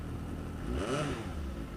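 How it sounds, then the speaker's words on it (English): A 2020 Suzuki GSX 750 S Phantom four-cylinder motorcycle engine with a matte exhaust can runs close by, a steady whirring drone with a brief rise in revs midway. "So you got your 4-cylinder engine whirring away, lovely little matte can to go with the aesthetics of the bike, and just listen to this."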